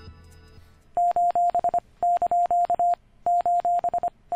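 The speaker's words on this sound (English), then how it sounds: "This is Morse code for a smiley face emoticon." Morse code for a smiley face emoticon plays as crisp, loud electronic beeps of a single steady tone, in three rhythmic groups of short and long pulses, heard alone.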